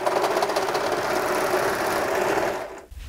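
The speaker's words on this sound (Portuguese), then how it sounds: "vou costurar aqui no overlock pra poder tirar o excesso" An overlock machine sews a seam and trims off excess fabric with a close, steady, rapid whirring hum. It stops abruptly near the end.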